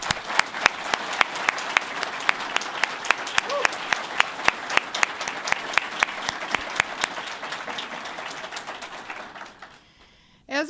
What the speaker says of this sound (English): Please, another round of applause for Dave Kaufman.